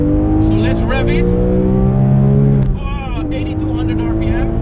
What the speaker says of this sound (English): So let's rev it.